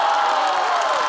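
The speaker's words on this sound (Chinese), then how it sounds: "我们掌声有请房主任。" A live stand-up comedy audience applauds and cheers to welcome the next comedian to the stage, a dense and continuous wash of clapping and crowd noise through the whole moment.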